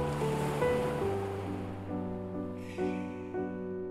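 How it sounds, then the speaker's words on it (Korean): Waves wash over the round pebbles of Ojini Beach on Chuja Island, Korea, in a steady, close surf that runs throughout, with sustained melodic tones playing over it. "이 몽돌이 부서지는 소리, 파도와 몽돌이 만나는"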